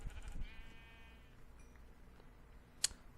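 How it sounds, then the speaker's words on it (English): Sheep in the video game Minecraft bleat once, a short faint wavering call, followed by a sharp brief click amid quiet game ambience. "we're going to kill 3 sheep"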